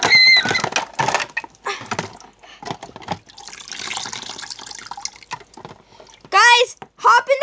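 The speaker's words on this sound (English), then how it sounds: "The boat's sinking." Water splashes and gurgles as a toy boat sinks, with bursts of liquid sloshing between excited children's voices talking and shrieking over it.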